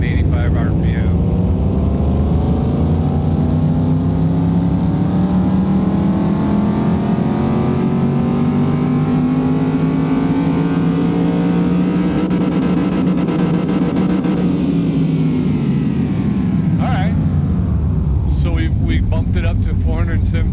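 A car engine of about 361 horsepower, tuned to roughly 417, revs on a dyno in Car Mechanic Simulator 2021. It climbs in one long, loud, steady pull toward about 4,500 RPM, then drops back to idle, with talk over it at times.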